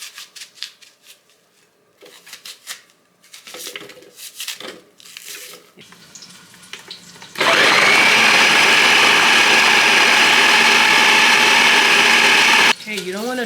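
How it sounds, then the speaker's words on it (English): A blender blending garlic and onion starts midway with a loud, steady whirring roar that runs for about five seconds, then stops abruptly; a person talks before it starts and again after it stops. "I don't feel like cutting it, so I'm just gonna blend it."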